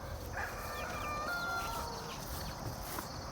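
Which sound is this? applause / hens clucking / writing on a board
hens clucking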